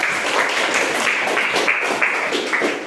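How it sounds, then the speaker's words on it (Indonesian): Students in a classroom clap together in steady, rhythmic applause, a fairly loud and continuous patter of many hands without any talking. "Tepuk tangan dulu untuk kita semua, ya."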